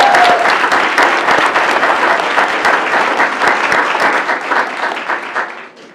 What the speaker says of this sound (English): Please clap it up for that one.